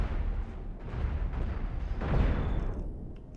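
Cannon fire in the Cosmoteer spaceship game blasts an enemy ship, a run of muffled, rumbling booms rolling into one another with a heavier thump near the end before fading.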